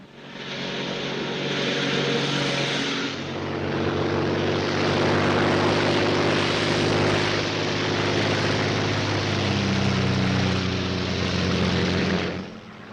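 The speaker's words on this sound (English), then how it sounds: "a Royal Air Force plane is waiting for us at a secret landing place" The steady, droning roar of a Royal Air Force propeller plane in flight over Dover, loud and continuous with a throbbing engine hum, starting and ending abruptly with no voices.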